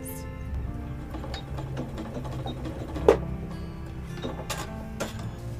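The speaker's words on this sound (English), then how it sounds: "we're just going to run the line of stitching" A sewing machine stitches quilt pieces together in a soft, rapid mechanical whir with light ticking, running continuously and faintly, with a sharper click midway.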